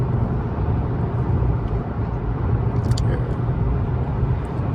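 Steady low rumble of a car driving through the Bronx at night, heard from inside the cabin as a continuous road and engine drone with no talking.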